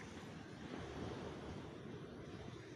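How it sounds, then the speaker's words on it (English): Ocean surf washes steadily onto Rakteshwari beach near Kochi, Kerala, at morning tide: a continuous, fairly close roar of breaking waves with some wind buffeting the microphone and no voices. "this is Rakteshwari beach where we are hearing the waves"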